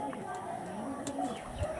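Pigeons cooing softly at a pigeon seller's, faint low coos in a quiet background, with a person talking over them.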